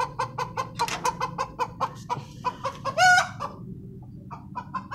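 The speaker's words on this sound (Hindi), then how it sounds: "बहुत शोर मचाता है मुर्गा" A caged rooster clucks in a steady rapid rhythm and breaks into a short, loud crow partway through before the clucking resumes, close and alone without talk.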